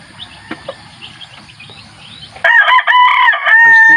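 A fighting rooster gives one loud, close crow that breaks in over faint background birdsong and soft scratching.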